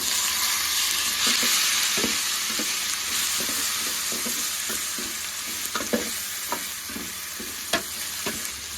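Onions and chillies fry in a pan for a village-style crab soup, a steady close sizzle broken by the scrape and clack of stirring, with no talk.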